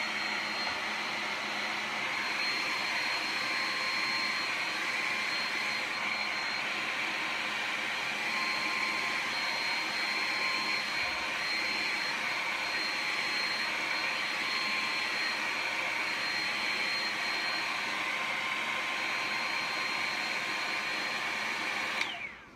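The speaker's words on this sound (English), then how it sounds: "I'm just drying my Mod Podge with a basic hair dryer." A hair dryer blows in a steady, unbroken whoosh for the whole stretch, close and constant, drying Mod Podge glue on a glittered cup, then cuts off abruptly at the end.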